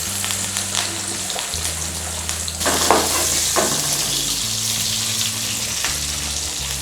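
Onions and curry leaves sizzle steadily in hot oil for a tempering that goes into a green gram curry, a dense continuous frying hiss with occasional spoon stirs. A low steady hum sits beneath it, and no one speaks.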